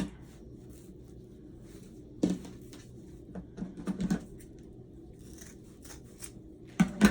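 Scissors snipping through deco mesh ribbon in a few separate crisp cuts, close and fairly quiet, with short pauses between bursts and no talking.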